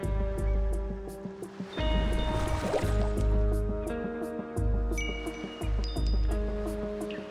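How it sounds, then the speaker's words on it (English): Chiming sea waves from the video game Reverse: 1999 ring like bells over a continuous watery wash, with layered sustained tones and bright plinks shifting throughout; no voice is heard. "The waves create a chiming sound, like bells."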